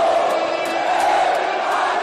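A dense crowd of football supporters at a Canto do Rio FC match in the Carioca Série D semifinal, chanting and roaring continuously as a loud, steady wall of voices.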